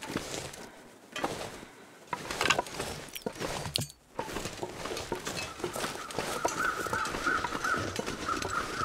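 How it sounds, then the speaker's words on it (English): Crows cawing in the snowy wilderness of the survival video game The Long Dark, with harsh repeated calls over a steady ambient wind and a faint high chattering layer building toward the end. "Looks like there are crows up here."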